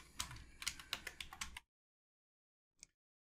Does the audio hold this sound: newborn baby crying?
no